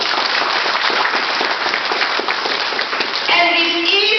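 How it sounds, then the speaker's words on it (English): An audience at a coronation night fills a hall with steady, dense applause that lasts several seconds, with brief musical tones rising near the end. "A round of applause for that."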